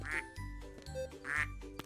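Two loud, nasal duck quacks from a duck in Farming & Supermarket Simulator, spaced about a second apart over light background game music.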